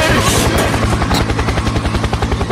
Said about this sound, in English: Helicopter, helicopter!